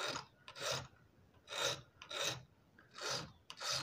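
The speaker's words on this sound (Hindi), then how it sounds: "इसको दो बार एक घिस्सा एक मतलब एक दांत में दो बार घिस्सा मारना है" A file rasps across the teeth of a handsaw during sharpening, giving a steady series of gritty scraping strokes, each about half a second long, repeated in pairs with short pauses between, close and clear with no talk.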